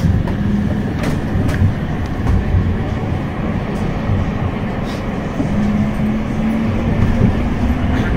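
A West Midlands Metro tram runs between Edgbaston Village and Wolverhampton Station, its interior filled with a loud, steady low rumble and a droning motor hum, with faint knocks and clunks from the track.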